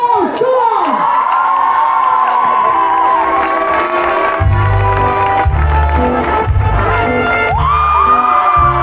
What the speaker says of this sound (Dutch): Voor Jelle Kleijmans en zijn Elmar Nierels een applaus!